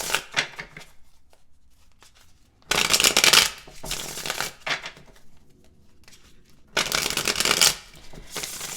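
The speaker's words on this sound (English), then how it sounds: "So we're just going to do a little shuffling here." Tarot cards are shuffled by hand in several distinct bursts of close, crisp riffling and flapping, separated by quieter pauses with soft handling noises.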